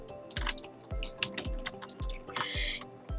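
Computer keyboard keys pressed repeatedly while moving around in Roblox Studio, with crisp close clicks in an irregular rhythm, a short cluster of faster tapping near the end.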